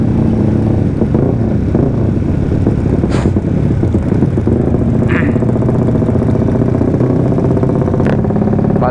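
A motorcycle fitted with oversized tyres runs loud and close, a rough continuous engine drone with clattering and brief revving surges.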